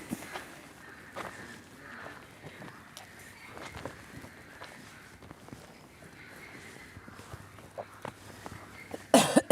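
Several short coughs and throat clearing at a farm gathering spot, scattered across the moments alongside footsteps and light movement, fairly close, with a louder burst near the end.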